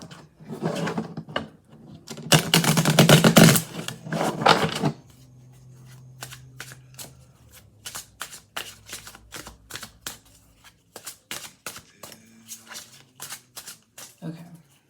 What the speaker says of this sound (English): I'm going to just shuffle till I'm guided to stop